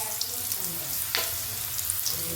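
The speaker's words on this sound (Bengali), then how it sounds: "আলুটা একটু ভেজে নেব।" Potato pieces frying in mustard oil with bay leaf, dried chilli and five-spice, a steady close crackling sizzle with a faint stir partway through.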